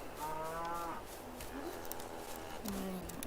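Cows moo inside Farming Simulator 22 on the Bobrovytsia map, a few drawn-out lowing calls at moderate distance over a steady background hum, with voices talking nearby.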